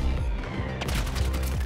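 Rapid bursts of automatic gunfire in a Modern Warfare 3 war-mode multiplayer match, loud and dense, with overlapping shots rattling continuously after a brief lull.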